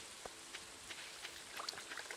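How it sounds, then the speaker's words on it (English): Rain falls steadily outside, faint scattered drips and patters with a few sharper drops ticking against a quiet background, heard alone with no voices. "it's been raining here for a handful of hours"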